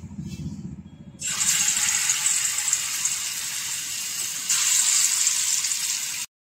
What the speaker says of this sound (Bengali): এবার আমি চিলি চিকেনটা ভেজে নেব।